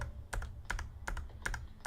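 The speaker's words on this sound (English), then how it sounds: "Instantly, the Windows key on my keyboard" Keys pressed on a computer keyboard, including the Windows key: five or so crisp, evenly spaced clicks over two seconds, close and fairly quiet against a low background hum.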